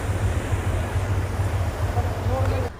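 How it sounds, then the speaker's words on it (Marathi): Ocean waves roll in at Calangute beach in Goa, a loud, continuous wash of surf mixed with heavy wind rumbling against the microphone, steady for the whole stretch. "बघा कशा लाटा येतात आहेत."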